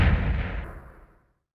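A simulated handgun gunshot special effect built in iMovie: one loud booming shot that rings out and decays over about a second into silence, with no voices.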